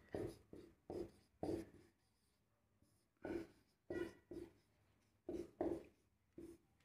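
Pen strokes write physics notes in Hindi on paper, a run of short scratchy bursts coming in uneven clusters with brief pauses, close and fairly quiet, with no voices.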